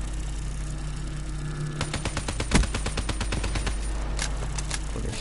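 Rapid bursts of gunfire in the video game Man of War, a quick run of sharp close shots starting partway through over a steady low game hum, with a louder blast in the middle.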